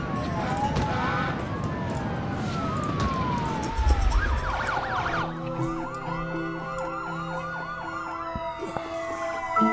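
Police car sirens in the SimCity video game, several overlapping wailing and yelping tones sweeping up and down, loud and continuous with traffic noise beneath.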